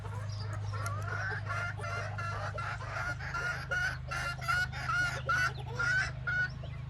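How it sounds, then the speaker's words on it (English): Yard chickens cluck and give short rising calls in a repeating series close by, over a low steady hum in the background. "Got some yard chickens out here,"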